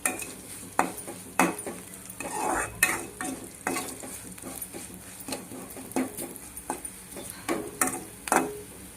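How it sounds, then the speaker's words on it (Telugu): A spoon stirs sago upma with turmeric and salt in a pan, scraping in irregular clinking strokes with faint sizzling beneath, close by and without talk. "ఉప్పు వేసుకుని దీన్ని కలుపుకుందాం."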